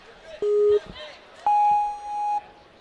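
A buzzer sounds at the finish of a preteen boys' challenge course at a regional championship, two electronic tones, a short one then a longer sustained one, under an excited announcer talking.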